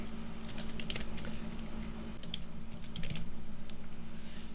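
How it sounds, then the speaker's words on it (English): Fingers tap steadily on a computer keyboard, a quick, irregular patter of clicks that is near and fairly soft over a low steady hum, with no voices. "Give me a moment to type that."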